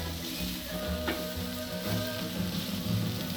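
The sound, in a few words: beef burgers sizzling on a barbecue grill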